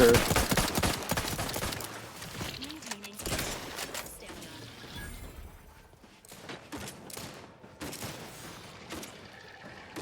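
A Colt .357 revolver fires in Outer Worlds 2, several sharp, separate shots at uneven intervals over quieter game sounds and some talk.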